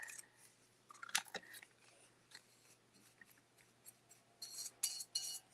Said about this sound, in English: You guys struggle with scissors too?